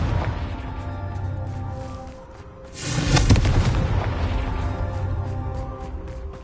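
A Confringo fire spell in Hogwarts Legacy bursts into a loud, deep boom midway through, then gives way to a sustained roaring rumble over a steady background hum.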